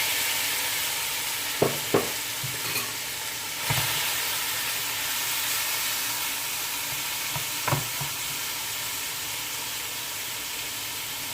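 Shrimp cooking in a pan, a constant close sizzle with a few sharp scraping stirs and clinks of a utensil breaking through at intervals, no one speaking.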